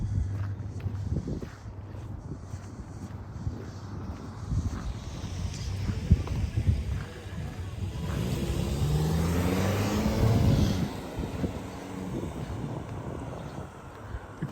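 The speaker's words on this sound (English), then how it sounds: "Car coming behind me." Car approaching from behind a pedestrian walking along a creek in Regina in winter, a low engine rumble swelling louder and closer over several seconds, then fading, amid wind noise and footsteps with no talking.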